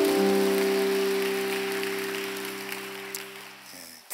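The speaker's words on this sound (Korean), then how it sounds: "우리 서로에게 격려의 박수 하겠습니다." A church congregation applauds in encouragement during a worship service, a soft, rain-like wash of clapping that fades gradually over a sustained organ-like chord, with no speech.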